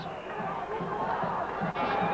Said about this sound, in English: The crowd are enjoying this.